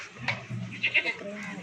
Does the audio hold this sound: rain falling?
no